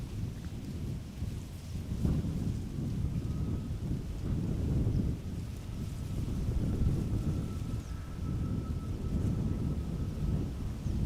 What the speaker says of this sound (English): You can definitely tell that there is a double-digit wind speed now blowing.